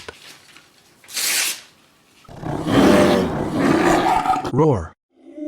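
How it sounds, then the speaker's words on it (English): A lion gives a long, loud, rumbling roar that surges and rolls for a couple of seconds, preceded by a breathy rasp and ending in a guttural tail. "roar,"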